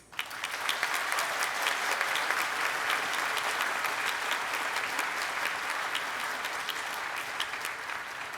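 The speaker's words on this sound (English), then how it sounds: "The other nominees in this category also deserve a round of applause" At the 2012 Hugo Awards ceremony, an audience gives award nominees a steady, full round of applause that holds evenly throughout, heard from within the hall with no speech over it.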